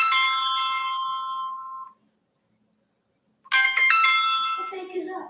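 A phone rings with an incoming call: a bright electronic ringtone sounds for about two seconds, falls silent, then chimes again loud and close with a brief voice near the end.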